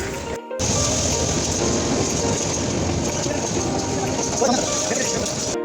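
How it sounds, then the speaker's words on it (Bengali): A train pulls in at a station platform in Chittagong, a loud, continuous rumble of wheels and railcars right up close, steady throughout with a brief dip near the start. "অলরেডি এসে পড়ছে, আমাদের সামনে ট্রেন চলে আসছে"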